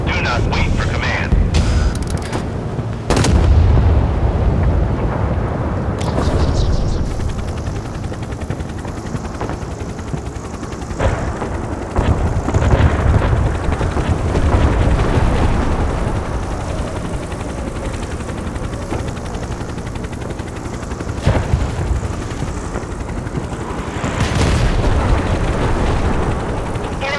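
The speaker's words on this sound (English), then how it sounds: "Missile launched at target. Hit confirmed. Fire at will." Naval combat in the warship video game Force of Warships: continuous loud barrage of gunfire, missile launches and explosions, with sharp blasts and rumbling booms layered over a dense battle din throughout.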